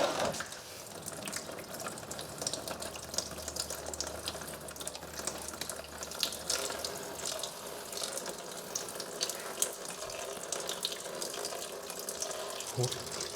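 Diesel fuel trickles steadily from a stuck valve under the tank of a Deutz 6006 tractor, a close, continuous wet splashing that stays constant throughout.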